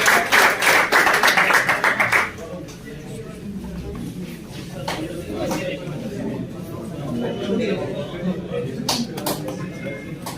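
Applause at a pigeon tournament in Kashmir breaks out loudly for a participant, then fades after about two seconds into scattered claps and crowd murmur, with an announcer's voice over the event.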